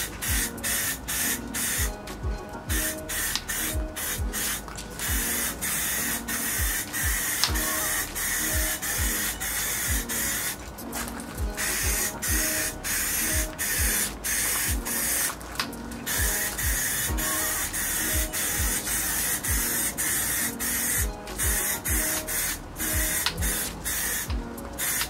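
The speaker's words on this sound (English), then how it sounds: "do a first coat of primer on here. It's just going to be a thin coat first of all" Thin first coat of primer sprayed from a can onto a rear diffuser for a Fiesta ST Mk6, a steady close hissing spray running in repeated bursts with brief pauses and clicks between passes.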